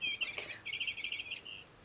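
Birds chirp in quick, high repeated trills, moderately close, with a short pause before a final brief call; no one talks over them.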